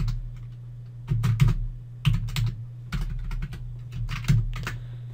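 Keyboard typing during data entry into a database form, bursts of quick clicky keystrokes separated by short pauses over a steady low hum, close and moderately loud.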